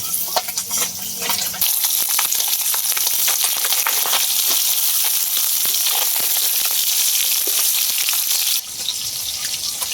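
Fish fries in oil in a wok lined with banana leaf, giving a loud, close, continuous sizzle with scattered crackles that swells sharply after a quieter start and drops off near the end.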